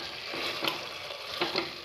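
Chicken curry sizzles and fries in a pan over a medium flame, with a steady, close hiss and a few brief louder crackles. No one speaks.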